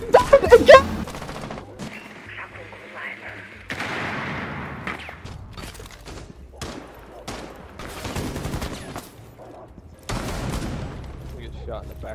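Gunfire in the Rainbow Six Siege video game: a burst of rapid shots at the start, then scattered bursts and single reports across the rest, with voices talking over the action.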